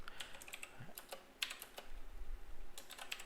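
Soft, close tapping on a computer keyboard while entering code on a desk, a quick irregular patter of keystrokes over faint room hum.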